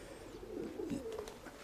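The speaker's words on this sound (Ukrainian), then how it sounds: "Це шоста голубка." A single pigeon gives a soft, low cooing call, faint and brief against a quiet background.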